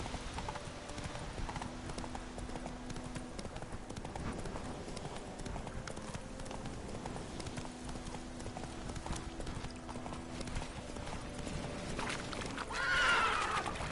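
A horse gallops in The Witcher 3 with a steady, fairly quiet clip-clop of hooves under game ambience, and a brief whinny-like sound comes near the end.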